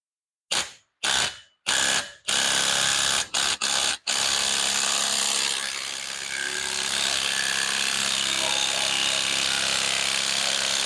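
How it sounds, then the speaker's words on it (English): An impact wrench stepped down from 3/4 to 1/2 inch hammers at a fitting on a Rolls Royce Silver Shadow during a hydraulic leak repair, starting with a few short bursts and then running in one long continuous rattle, close and loud. "so I can then use a rattle gun"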